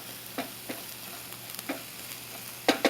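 Okra sautéing in a pan for corn and sautéed okra, with a low steady sizzle under a few sharp stirring clicks and scrapes, the last two louder and close together.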